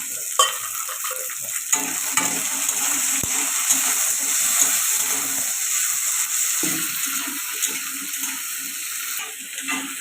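Pitha frying in a pan with chilli and peas for a vegetarian khichdi, a continuous close sizzle broken by stirring clatters and scrapes, no talking.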